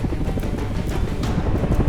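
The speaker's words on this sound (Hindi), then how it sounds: "जीवन रक्षक के रूप में चेतक हेलीकॉप्टर पहुंच गया" An Indian Coast Guard Chetak helicopter flies during a sea rescue of a fisherman, its rotor and engine giving a loud, steady throbbing drone with faint rhythmic blade pulses throughout.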